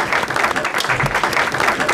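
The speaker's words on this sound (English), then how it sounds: "I'd like you to give a very warm Derbyshire welcome and a round of applause to Mr. Peter Shilton" Audience applause at a charity auction in Derbyshire, a brief burst of dense clapping from the room, steady and moderately loud.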